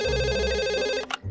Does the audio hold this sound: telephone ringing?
yes